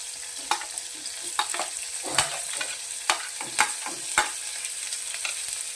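Carrot and capsicum being stir-fried for wheat noodles, a steady sizzle in a hot pan broken by six or seven sharp scraping strokes of a spatula at roughly even intervals, with no voices.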